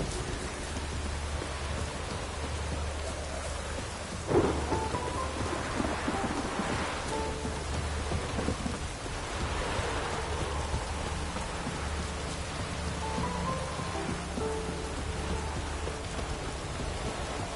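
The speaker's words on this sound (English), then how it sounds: "A storm, damn it." Heavy rain pours steadily during a thunderstorm in the video game Witcher 3, a dense constant hiss with a low rumble of thunder rolling underneath and a sharper crack partway through.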